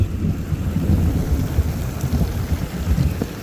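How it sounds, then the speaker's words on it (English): Thunder rumbles low and heavy during a storm over steady rain, a continuous rolling boom that stays dense and moderately loud for a few seconds, with no voices. "it's a big thunder"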